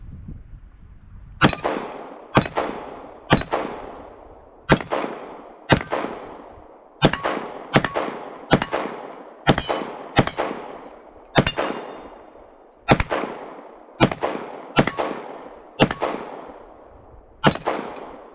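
A Sig P320 full-size 9mm pistol fires about fifteen single shots at irregular spacing, each a sharp, loud crack with a short ringing decay, outdoors at close range with no talking.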